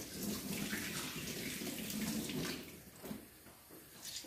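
Water from a kitchen tap rinses raw chicken, a loud continuous close gush that eases after about two and a half seconds into softer splashing and trickling, with no voices.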